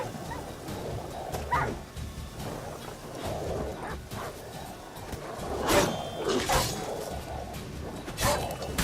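Packs of stray dogs in the video game The Witcher 3: scattered barks and yips at moderate distance over a low ambient bed, several bursts spread through the clip, with faint background sound.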